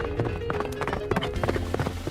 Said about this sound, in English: that horse has kicked the door so hard, it's dropped one of its shoes.